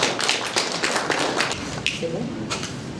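Audience applause at a press conference in Mali, a dense, fairly loud patter of many hands clapping with sharper individual claps standing out, continuing steadily for a few seconds.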